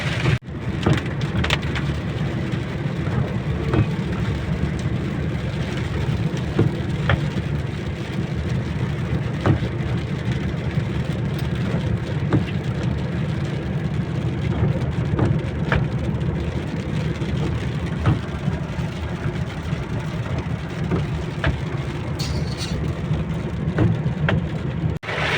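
Heavy rain drums steadily on a moving car while driving, a dense continuous wash of rain noise over a low road and engine rumble, with occasional sharper drop hits and no talking.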